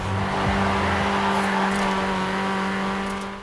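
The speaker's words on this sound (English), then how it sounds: "This car does look, sounds absolutely amazing." A car in the racing video game Forza Horizon roars steadily at high revs, loud and continuous, with a brief rising rev near the start and the sound tapering off at the end.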